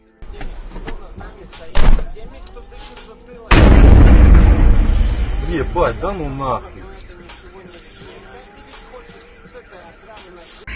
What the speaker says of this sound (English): footage of the moment a UAV struck the Belgorod arena